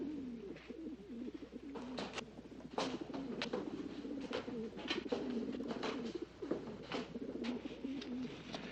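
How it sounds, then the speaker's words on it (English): Pigeons coo steadily throughout, a continuous low warbling murmur close by, with a few sharper bird calls and flutters standing out now and then. "It's those pigeons."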